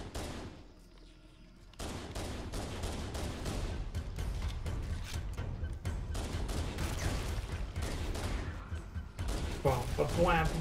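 Pistol fire in Halo: Combat Evolved, a quiet opening and then a rapid, sustained string of shots layered with other combat noise, loud and busy to the end.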